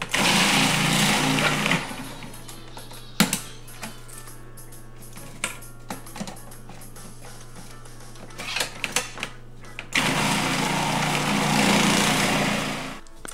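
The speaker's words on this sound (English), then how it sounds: "So I just put my cabbage in, turn the processor on." A food processor shreds cabbage heads for sauerkraut, its loud motor whirring steadily at the start and again near the end, with clattering and tapping between the runs and no talking.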